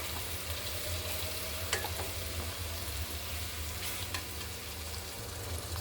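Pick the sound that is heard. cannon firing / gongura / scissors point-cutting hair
gongura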